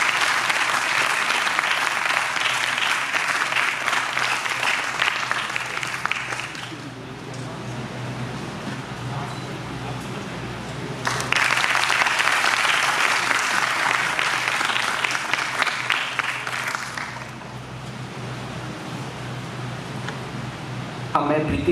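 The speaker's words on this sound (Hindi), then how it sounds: "तालियों से मैम का स्वागत किया जाए।" An audience at a Hindi literary festival applauds to welcome a guest, with two long bursts of steady, dense clapping separated by a quieter lull in the hall.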